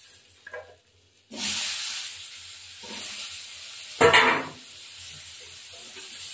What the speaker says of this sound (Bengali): এই তেলে আলুগুলো দিয়ে দেবো